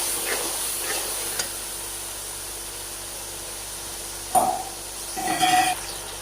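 Biryani ingredients with salt and cumin being stirred together in a pan, a steady low sizzle with occasional spoon scrapes and a louder burst of stirring near the end, close and without talk.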